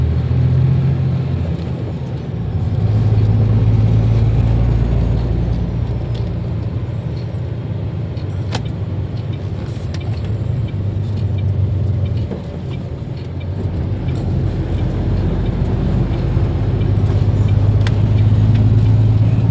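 Heavy road traffic with a truck and passing vehicles on a highway, a continuous loud low rumble that swells and fades as vehicles go by, with an air-brake hiss and no talking.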